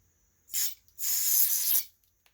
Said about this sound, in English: So I'll spray some cleaner on there and make sure everything flows good.